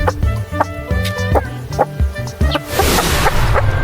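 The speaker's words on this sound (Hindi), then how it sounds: "हेन को हिंदी में मुर्गी कहते हैं।" A hen clucks repeatedly in short rhythmic bursts, close and fairly loud, with a burst of broadband noise toward the end.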